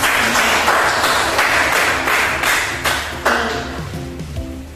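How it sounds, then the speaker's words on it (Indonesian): A classroom group applauds with loud, sustained clapping that gradually thins out and fades toward the end. "tepuk tangan untuk kelompok"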